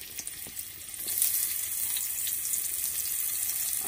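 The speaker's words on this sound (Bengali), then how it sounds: "এই তেলেতে আর একটু তেল দিয়ে দিলাম, দিয়ে পেঁয়াজ দিয়ে দিলাম," Onions frying in oil in a village kitchen pot while preparing Bengali magur fish curry, a steady bright sizzle that swells slightly after the first second and holds continuously, close and fairly loud with no talking.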